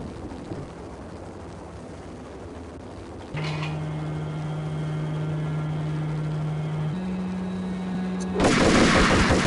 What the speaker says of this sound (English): I'm tossing this grenade.